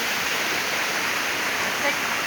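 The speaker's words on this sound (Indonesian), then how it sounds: "air terjun Pring Jowo Nganjuk berada di kawasan Salam Jejeg." The Pring Jowo waterfall in Nganjuk roars as a steady, loud broadband rush of falling water, continuous and unbroken throughout.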